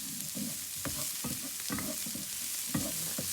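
Garlic and onions fry in a pan with a steady close sizzle, broken by repeated scraping and stirring strokes from a utensil, with no voices.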